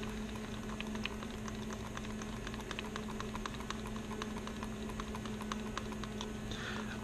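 Two-part casting resin is stirred in a cup, giving faint, fast, irregular scraping and ticking clicks over a steady low hum, with no voices.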